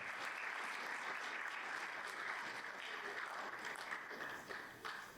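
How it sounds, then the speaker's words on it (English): A round of applause from an audience at a National African American Read-In Day event, a dense steady wash of many hands clapping that carries on for several seconds and heard from a distance in the room. "So let's give them and you a round of applause."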